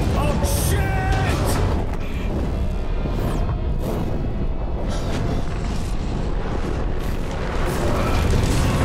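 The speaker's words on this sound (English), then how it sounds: "Isaac is flung out of the exploding Eudora spaceship" The Eudora spaceship breaks apart in the video game Dead Space 3, loud continuous booming and rumbling destruction with repeated crashes and bursts layered over one another throughout.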